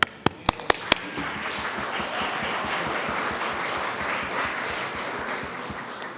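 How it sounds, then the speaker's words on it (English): A few sharp, loud claps open the sound, then a steady wash of audience applause fills the Colorado Senate chamber, moderately close, continuing evenly for several seconds without speech. "Give them a big round of applause."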